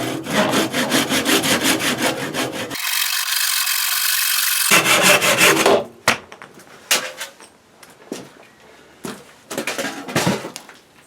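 A hand saw cuts through a small piece of carving wood in quick, rhythmic back-and-forth strokes, loud and close, ending in a few scattered scraping and knocking sounds.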